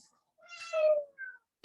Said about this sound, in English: I know we're about to have a kitty guest here if we're not careful